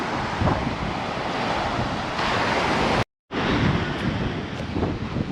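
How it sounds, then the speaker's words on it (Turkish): Strong wind buffets the microphone in loud, continuous gusts at a swimming beach in Ginolu Cove, Kastamonu, with surf washing in the background; a brief silent cut interrupts it midway. "Burası bayağı bir rüzgarlı."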